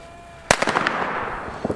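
Chinese firecrackers go off in a sharp loud bang followed by a rapid crackling burst of smaller pops that trails off, heard outdoors with no talk.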